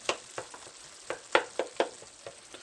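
Ground meat browning in a pan for Arkansas-style chili, with a series of sharp scraping and chopping strokes spaced irregularly over a soft background sizzle, close and moderately loud.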